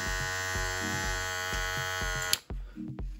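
A new Kemei 2609 hair clipper runs with a steady, close electric buzz and a rhythmic pulsing hum, then cuts off abruptly near the end, leaving brief low rumbling handling noise.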